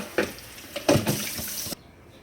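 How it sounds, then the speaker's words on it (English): Tap water splashes into a cooking pot of pinto beans in short bursts, close and moderately loud, then cuts off abruptly to quiet. "then I'm gonna fill it with water"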